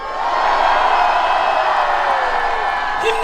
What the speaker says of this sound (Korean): 함성이 들리십니까?